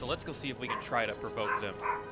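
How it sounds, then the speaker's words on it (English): A dog barks and yips in the background, several short barks at moderate distance under someone talking over them. "Do apologize for the barking in the background."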